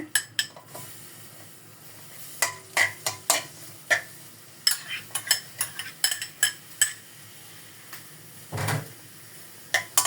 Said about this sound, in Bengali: এখানে একটু সাদা তেল দিয়ে নেব, একটু পেঁয়াজ দেব